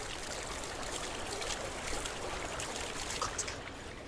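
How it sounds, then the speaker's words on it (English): A small waterfall trickling in the video game Hellblade: Senua's Sacrifice, a steady soft splashing and gurgling stream of water continuing evenly throughout, with no voices over it. "Nice little waterfall there."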